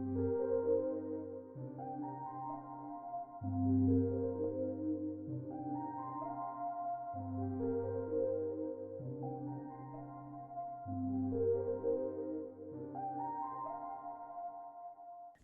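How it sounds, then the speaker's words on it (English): A vocal pad preset in Kontakt, lightly EQ'd to thin the lows, plays an ethereal, airy MIDI melody of sustained, choir-like chords that shift every second or two in a slow repeating pattern, smooth and steady with no voices speaking. "I just copied over the same MIDI to this contact pad. It's like a vocal pad, and it sounds like this."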